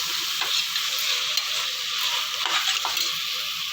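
Soya chunks (meal maker) and green peas are stirred in hot oil with turmeric, giving a close, continuous bright sizzle broken by brief scraping strokes of the spatula.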